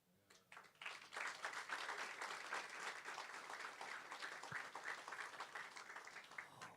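Audience applause at a book launch for a legal memoir, a dense, steady wash of many hands clapping that swells quickly after a quiet start and holds loudly to the end, with no talk over it.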